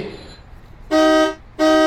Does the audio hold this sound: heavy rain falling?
no